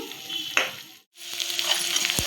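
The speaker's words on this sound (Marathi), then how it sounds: "असं छान मस्त असं परतून घ्यायचं, जेणेकरून हा मसाला त्यामध्ये लागला गेला पाहिजे." Chicken pieces coated in dry masala sautéing in an oiled pan, giving a steady close sizzle with stirring scrapes, a brief pause while the lid comes off, then the frying noise resumes.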